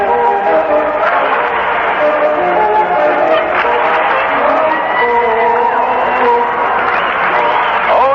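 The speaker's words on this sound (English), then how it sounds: "Little hand clapping music in the background." A stadium crowd at a World Series baseball game, Dodgers at Athletics, fills the air with a continuous roar and rhythmic hand clapping as organ-like music plays in the background, loud and steady throughout.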